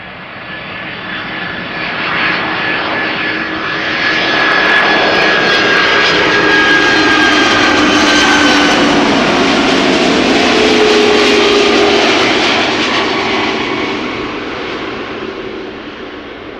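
An Airbus A300-600 cargo jet arrives at Amsterdam Schiphol, its engine roar swelling loudly as it passes near, holding a broad rushing drone with whining tones, then fading gradually as it moves away.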